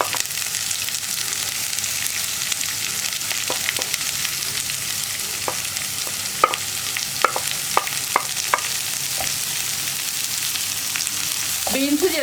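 Green beans being stir-fried in a pan for a beans and cabbage thoran, with a steady soft sizzle and scattered scraping clicks of a spoon stirring, no talking.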